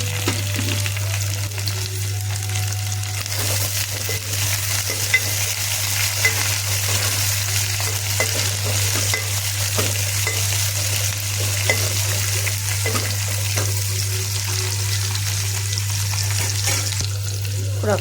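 Whole spices, bay leaf, marathi moggu, curry leaves and coriander sizzle steadily in hot oil for a Telugu tempering, a continuous close frying hiss with occasional stirring clicks and no talk.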